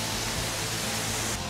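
Waterfall in Theth National Park in the Albanian mountains, a loud, even rush of falling water heard close up, steady and unbroken for a brief moment.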